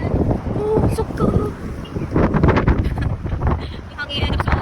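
Strong, gusty wind roars and buffets the microphone in loud, uneven surges, while people talk underneath.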